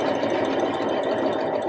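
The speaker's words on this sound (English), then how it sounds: "So I've just finished sewing along that edge." A sewing machine stitches a seam along a fabric edge for a jumpsuit, giving a steady, fast mechanical whirring with even needle clatter throughout, close and alone.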